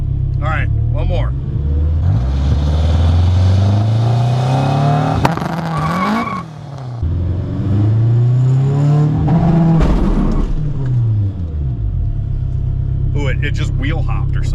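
AWD turbocharged Honda Civic with a K-series engine swap launching on the street: a loud, close engine revs and climbs steadily through gears, with tire squeal and brief lifts between pulls, while a voice talks over it.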